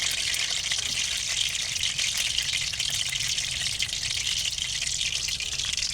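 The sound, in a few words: water sprinkled into hot oil crackling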